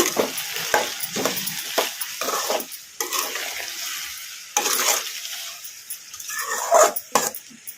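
A spoon stirs a sizzling stir-fry of snake gourd and drumstick in a pan, with repeated scraping strokes over a steady frying hiss and a faint dog barking in the background.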